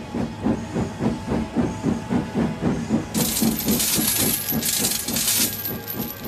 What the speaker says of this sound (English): Thomas wheeshed and set off an old steam whistle